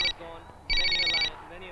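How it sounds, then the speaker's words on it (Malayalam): A cordless telephone rings in a home, two bright electronic trill bursts separated by a short gap, close and fairly loud. "ദേ വയറിംഗ് ഇല്ലാത്ത ഫോൺ."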